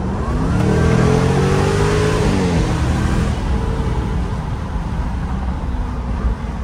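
A car in sport mode revs hard close by, the engine note climbing then settling into a steady loud drone inside the cabin.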